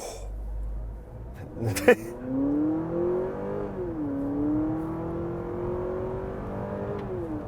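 A 2023 Honda Accord Hybrid engine revs up at full throttle in sport mode with rising pitch, dips briefly, then climbs again in a sustained loud acceleration, with a sharp click near the start.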